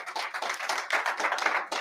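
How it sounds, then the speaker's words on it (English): An audience at an evening meeting claps for a sponsor. The clapping is close and moderately loud, a dense patter of many hands lasting about two seconds, with no voices over it. "so round of applause for that."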